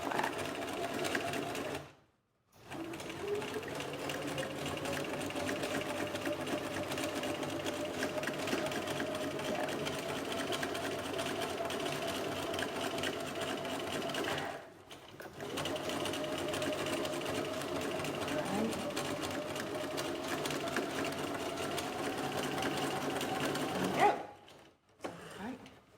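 A sewing machine runs in long continuous stitching bursts around a garment collar seam, with a steady whirring hum broken by two short pauses, close and fairly quiet.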